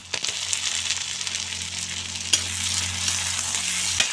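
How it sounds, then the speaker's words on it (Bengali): Chopped tomato, added after ginger and garlic, fries in a pan for a papaya and egg dish, sizzling steadily with a broad hiss while a utensil stirs it, and a couple of sharp scrapes stand out. "টমেটো কুচি দিয়ে এখন হালকা নেড়ে ছেড়ে নিয়েছি।"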